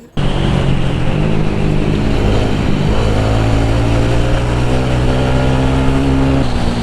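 A motorbike engine runs loud and close while riding through corners, a continuous droning roar whose pitch shifts slightly as the throttle changes, with no voices.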